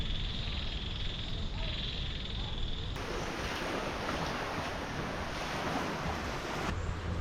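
Ocean surf washes onto an island beach in Thailand, a steady wash of breaking waves with wind noise, shifting to a brighter, louder hiss midway, with no voices.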